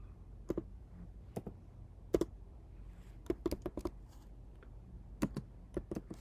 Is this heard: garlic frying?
no